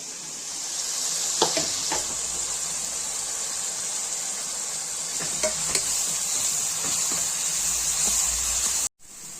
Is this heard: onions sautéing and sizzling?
yes